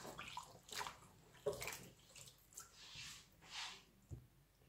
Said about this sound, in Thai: ก็มาทำการล้างนะคะล้างใบเตยเนี่ยค่ะ